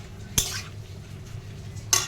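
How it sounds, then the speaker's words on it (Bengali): A pan of tomatoes with a pinch of salt is stirred, a spoon scraping twice against the metal with quiet kitchen background between the strokes. "নুনটা দিয়ে এবার এটাকে এখন নাড়াচাড়া করি, টমেটোটা সিদ্ধ হয়ে যাবে আস্তে আস্তে"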